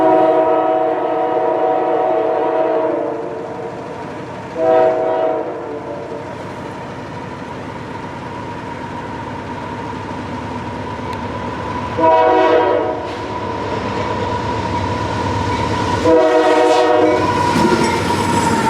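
An empty freight train of pipe gondolas, Union Pacific interchange at Salem, Illinois, rolls steadily past with repeated loud horn blasts sounding over the continuous rumble and clatter of the cars.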